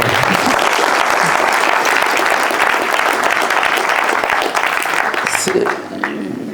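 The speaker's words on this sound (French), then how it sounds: "non mais applaudissez-le parce que c'est dur d'être maire" An audience at a book talk in France claps for the mayor, loud, dense applause from a crowd that holds steady and then thins near the end, with scattered voices audible beneath it.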